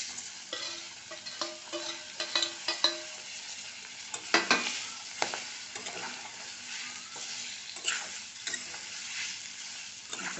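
Mutton pieces fried and stirred with salt and kitchen king masala in a pan, soft sizzling under irregular scraping and clattering of a spoon, close by with no voices.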